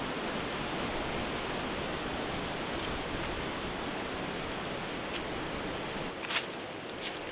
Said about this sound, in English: Love the sound of the wind in the trees.